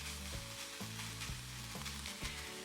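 Ground beef fries in a pan, a dense close sizzle interrupted every half second or so by bumps and scrapes as the meat is tossed and broken up, with no talking.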